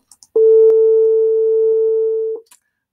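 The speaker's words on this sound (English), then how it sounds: "Now I have 850, and it should be represented as a different tone." A steady pure test tone, played back at too low a sample rate, sounds for about two seconds alone and at constant loudness, with faint clicks at its start and end.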